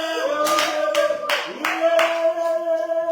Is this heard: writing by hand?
no